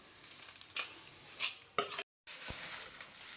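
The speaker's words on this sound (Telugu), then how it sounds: "ఇలాగ ఒక అట్లకాడ తీసుకొని ఇలా తిప్పుదాం ఫ్రెండ్స్." A spatula stirs a flattened rice (atukula) snack mixture in a pan, giving steady scraping and light sizzling with a few louder scrapes, close and alone, then a short pause before stirring resumes.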